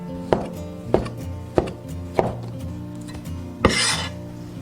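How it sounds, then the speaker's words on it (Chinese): Knife slicing small pieces of luncheon meat on a cutting board: four evenly spaced firm chops roughly every half second, close and clear, then a softer scraping sweep across the board. "准备小块午餐肉切片"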